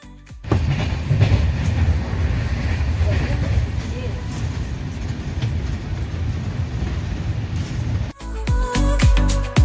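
Train travelling at night on the route from Sealdah to Gaya, a steady loud rumble of wheels and carriage noise that continues throughout, with a sharp change near the end as louder clattering and bangs break in.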